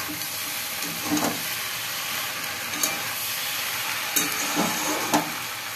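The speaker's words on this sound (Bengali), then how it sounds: "দেখো কি সুন্দর ভাজা ভাজা হয়েছে। বেশি ভাজবো না, হালকা লালচে ভাব হবে।" Onions frying in oil in a pan for peyaj posto, a steady soft sizzle with a few brief louder stirring scrapes spaced through the clip, close and even, no voices.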